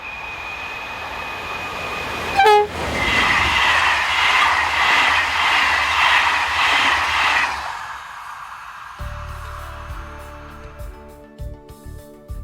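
French locomotive 26026 hauls a late-running passenger train from Nevers toward Paris, passing close by with a squeal and a rhythmic run of wheel clatter. The sound fades out as a low, tonal hum takes over.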